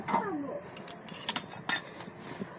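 Chow mein noodles stirred in a pan for a vegetable chow mein, with soft scraping and a few light metallic clinks of a utensil against the pan, close and fairly quiet, no talk.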